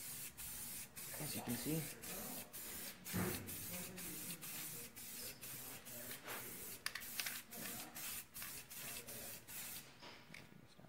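A spray can lays a light first coat of protectant on a car rim in short, repeated hissing bursts that start and stop, while a person talks quietly throughout.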